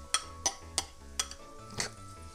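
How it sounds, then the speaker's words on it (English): Spices hit hot oil in a pot while banana ketchup is being made: a close, dry crackling sizzle with about five sharp spoon clinks against the pot over a steady frying hiss, with no talking. "Listen to that sizzle!"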